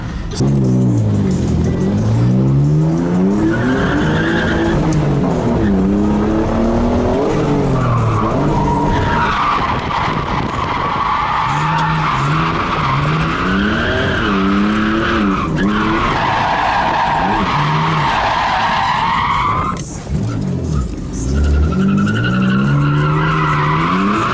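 A Mitsubishi 3000GT drift car slides around a track in Florida, tires squealing loudly and continuously while the engine revs rise and fall in sweeping waves, close and intense throughout.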